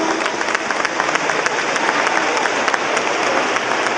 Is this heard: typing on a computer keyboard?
no